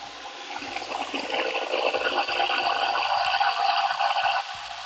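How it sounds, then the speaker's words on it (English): Water pours steadily from a can into a blender for several seconds, a continuous splashing gush that stops abruptly near the end. "So I'm going to go ahead and add some water."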